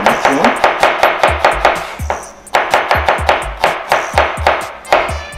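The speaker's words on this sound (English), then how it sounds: "Cut these onions up." Knife chopping onions on a cutting board for chicken biryani, steady rhythmic thuds with sharp knocks at an even pace, a brief pause, then the regular chopping resumes, loud and close with no voices.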